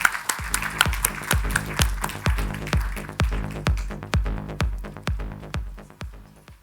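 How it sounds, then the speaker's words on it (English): Steady rhythmic clapping, with individual heavy claps evenly spaced and a fainter crowd wash behind them early on, as an audience greets a women-in-tech panel. The crowd element fades while the claps continue for over six seconds. "Please, hear an applause to our amazing panel."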